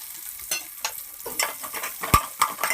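Chopped onion going into a hot pan with garlic, coriander leaves and green chilli for a palak foxtail millet khichdi, sizzling softly while a spoon stirs in several distinct scraping strokes, close and fairly quiet, with no talking.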